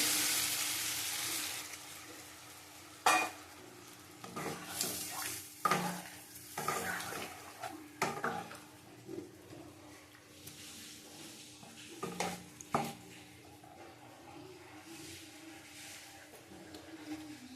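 Tomato curry sizzles and bubbles in a pan after water goes in, with a steady frying hiss and repeated clinks and scrapes of a spoon stirring against the pan, fairly quiet and close.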